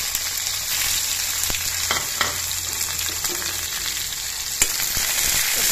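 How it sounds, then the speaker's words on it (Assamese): Onion sizzles in hot oil in a wok, a continuous close frying hiss with occasional sharp crackles and a faint low hum underneath, no one speaking. "ইফালে কেৰাহীত তেল গৰম হ'বলৈ দি দিছো এতিয়া ইয়াত পিয়াজ কৰি দিম"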